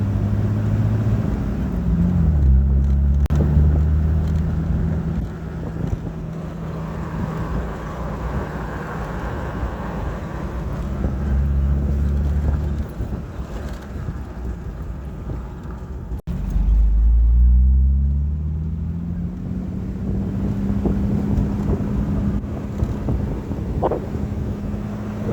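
Cabin sound of a Jeep Wrangler TJ with a cheap muffler, driven with the top and side window off: a low exhaust drone rises and falls through gear shifts, with wind buffeting the microphone at moderate, steady loudness.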